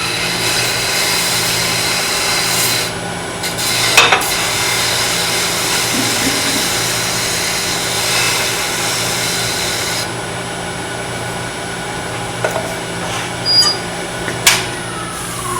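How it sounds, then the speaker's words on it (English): A steady whirring hum of a spinning machine with a rough abrasive hiss over it as a miniature wooden vase is sanded, broken by a few brief knocks and scrapes. "A little sanding."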